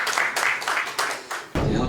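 Applause from a conference audience at a university presidents' summit in Korea, a brief burst of steady clapping that swells louder near the end.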